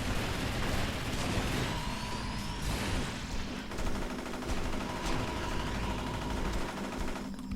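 Sustained rapid gunfire from guns in the video game Champions Online, dense overlapping shots and bursts rattling continuously and loudly throughout, with a sweeping whoosh partway through and no talking.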